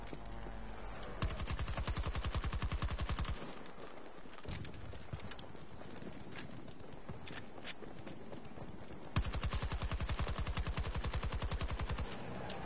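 Rapid automatic gunfire in Battlefield 2042, with long, steady bursts of close, loud shots separated by quieter stretches of game ambience.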